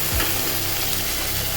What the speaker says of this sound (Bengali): 1 টিস্পুন আদা রসুন বাটা দিলাম